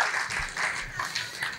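An audience at an Urdu mushaira in Aurangabad applauds to welcome the poet Naeem Akhtar Khadmi. The clapping is steady and moderately loud, a dense wash of many hands that swells and eases slightly throughout.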